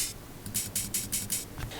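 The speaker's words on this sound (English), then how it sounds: "I have taken 2 similar sounding open hi-hat samples and I have panned one to the left and one to the right" Two similar open hi-hat samples, one panned left and one right, hit in a quick run of about five or six bright, airy sizzles in a trance percussion pattern.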